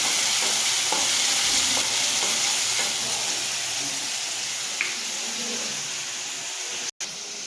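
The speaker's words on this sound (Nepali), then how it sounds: "मैले चाहिँ प्याज हालेर भुट्दैछु।" Chopped onions fry in hot oil in a home kitchen pan, giving a steady close sizzle with faint stirring scrapes throughout, no talking.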